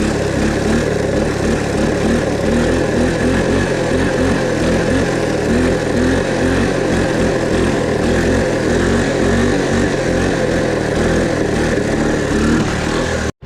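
A Honda ATC three-wheeler engine revs hard in first gear during a wheelie, a loud, close, continuous buzzing drone with a rough, pulsing texture that holds steady throughout before cutting off.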